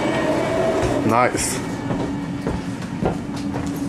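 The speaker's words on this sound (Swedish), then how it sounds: "Vad fan gör tåget inne nu?" Train arriving at a station platform, a steady rumbling roll with faint clicking wheels, fairly close, with a brief spoken word over it.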